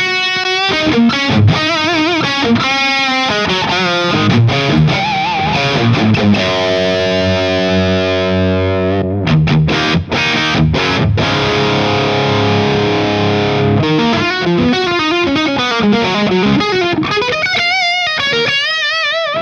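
Distorted electric guitar plays chords and single notes, with a long, smooth plate-style reverb tail blooming behind each phrase.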